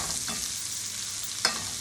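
Shallots frying in a pan, a soft steady sizzle with a couple of brief scrapes or stirring clicks, fairly quiet and close, no voices.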